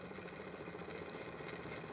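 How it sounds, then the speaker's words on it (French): A low, steady hum of an electric motor spinning a wheel in a home free-energy test rig, faint and even with a slight rhythmic flutter and no voices. "On va attendre que le moteur se stabilise."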